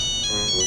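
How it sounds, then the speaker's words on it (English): A Nokia phone taped to a badminton racket plays its ringtone, a short, bright electronic tone sequence that is loud and close, heard alone with no voices. "That's a phone call."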